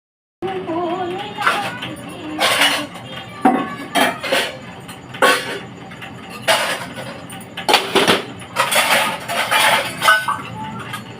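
Metal kitchen utensils and dishes that were washed at midday clink and clatter in a basket, a run of close, sharp knocks and jingles with brief pauses between handlings.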